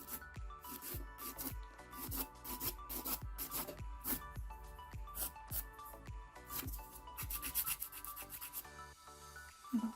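A nail file rasps rhythmically against a gel nail as the sides are shaped, close and steady, with repeated short strokes and no voice.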